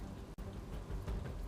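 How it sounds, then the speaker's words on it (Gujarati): Torrential monsoon rain pours down in Sabarkantha, Gujarat, a faint, dense, steady hiss of drops on surfaces with a brief dip partway through. "સાબરકાંઠામાંથી કે જ્યાં આગાહી પ્રમાણે જિલ્લામાં ધોધમાર વરસાદ પડ્યો"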